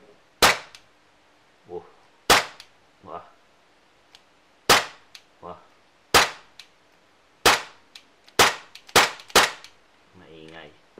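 A Tokyo Marui MK23 airsoft pistol fires a series of sharp, loud, close snapping shots at irregular intervals, singles and quick pairs, while someone talks briefly between them.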